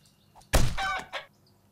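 A chicken in the video game 7 Days to Die with a fantasy mod lets out a single loud, close squawk and a short trailing cluck against near silence.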